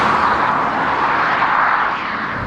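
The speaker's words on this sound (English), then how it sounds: "But this is a satisfying engine noise, and it's fun to work with" A Lexus IS 500 sedan's V8 engine roars steadily under load from inside the car, a loud, continuous, broadband growl that holds even throughout with a slight easing at the end, and no talking.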